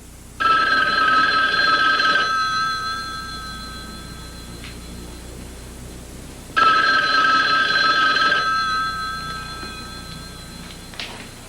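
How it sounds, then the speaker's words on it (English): A telephone bell rings loudly in two long, jangling bursts a few seconds apart, each followed by a fading ringing tail, close by and with no voices. "Well, answer it. It's just a phone."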